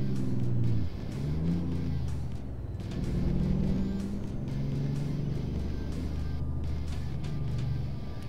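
A truck in American Truck Simulator drives and brakes into a built-up area, its engine droning with shifting low tones that rise and fall, plus short hiss bursts, and no talking.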